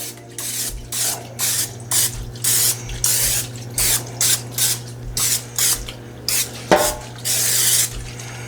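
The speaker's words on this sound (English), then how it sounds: "I'm gonna go ahead and spray down the pan sheet with some canola oil spray" Canola oil cooking spray hisses onto a pan sheet in short, repeated bursts, about a dozen sharp sprays with brief gaps between them, close and fairly loud over a faint steady hum.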